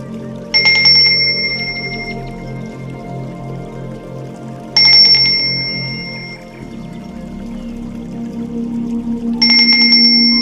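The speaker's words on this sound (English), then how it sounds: "go ahead and ring your bell." A ritual bell is struck three times, each strike a bright, clear ring that rings on and slowly fades before the next, over a soft, steady droning tone underneath.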